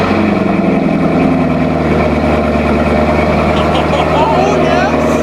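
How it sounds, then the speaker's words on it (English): A C7 Corvette Z06 with an AWE aftermarket exhaust idles loudly on a cold start, steady deep rumbling exhaust drone, holding a constant low hum throughout without revving. "It's cold start time after the AWE exhaust install."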